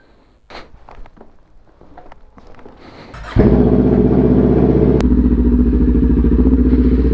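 Kawasaki Ninja 400 motorcycle: faint clatter and handling noises, then the engine fires up loudly after three seconds and holds a steady, close idle rumble with a brief blip.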